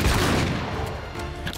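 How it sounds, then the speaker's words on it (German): Gunfire in the action video game Uncharted 3 sounds as a burst of loud, close booming shots crowding together over a second and a half, with no voices over them. "da waren auch noch 3 Schüsse"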